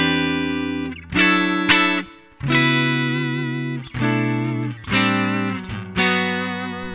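Electric guitar run through a Boss GT-8 with the Palmer PDI09 speaker simulator switched off, giving a bright, trebly direct tone; several sustained chords and notes with slight vibrato, each struck and held for about a second, close and alone.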